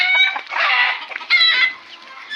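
Free-range village hens clucking and squawking in a poultry yard, a loud, close, continuous chorus of overlapping calls with a brief rise midway and no talk.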